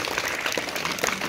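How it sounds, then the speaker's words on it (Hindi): Audience applause welcoming a guest at a village farewell event, a steady wash of clapping from a crowd throughout the short moment, fairly even in level with no talk over it. "तालियों से स्वागत कीजिए।"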